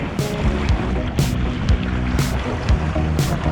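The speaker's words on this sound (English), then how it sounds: "I'm totally not used to small boat riding anymore. But it's super fun. Just gonna ride the wave." A small boat rides over choppy waves at sea, its hull slapping the water in repeated loud bursts about once a second over a steady rush of engine and water noise.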